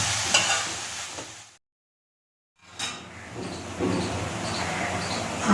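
Shrimp frying in a pan as green chillies are added, a steady close sizzle with some stirring, briefly cut off by a short silence before the hissing resumes and continues.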